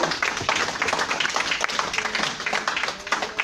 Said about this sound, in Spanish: un aplauso a los compañeros porque ya es un logro